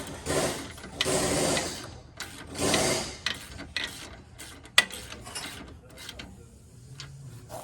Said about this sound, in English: use your 18mm socket to tighten it